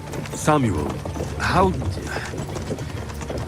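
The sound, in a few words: horses' hooves clip-clopping on a road, from video game Kingdom Come: Deliverance 2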